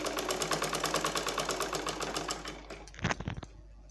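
A sewing machine stitches a salwar in a long run of fast, even needle strokes for over two seconds, then slows and stops with a few final clunks before it falls quiet.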